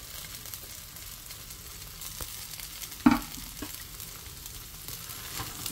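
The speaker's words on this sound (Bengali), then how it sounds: "এখন আমি এই সেমাইয়ের মধ্যে কিমা যে রান্না করে রেখেছিলাম সেই কিমাটা দিয়ে দিব।" Semai being stirred in a pan with cooked minced meat, giving a low, steady frying sizzle and one sharp utensil knock near the middle.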